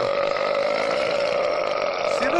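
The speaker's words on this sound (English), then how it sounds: "Just burping through me." A long, loud burp rumbles steadily for a couple of seconds, close to the microphone and tonal, trailing off at the end.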